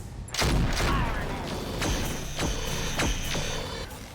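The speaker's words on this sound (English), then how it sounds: "And I'm going to fire the Ultra AC-5." Ultra AC-5 autocannon firing in the mech game RogueTech: a burst of heavy shots with sharp repeated impacts, loud and close, with game mechanisms and tones around it.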